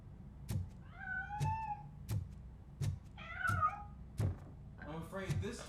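A cat meows repeatedly in RoboCop: Rogue City, several drawn-out, rising and falling cries spaced a second or so apart. Each one is clear and close, set over a low game background with soft thuds.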